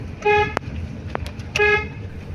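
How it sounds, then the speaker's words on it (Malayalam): A car horn honks twice at a bend on a Kerala road, each a short bright toot about a second apart, heard from inside the car over a low engine hum with a few clicks. "വളവില് നമ്മൾ നിർബന്ധമായിട്ട് സ്പീഡ് കുറച്ച് ഹോൺ അടിച്ചിരിക്കണം"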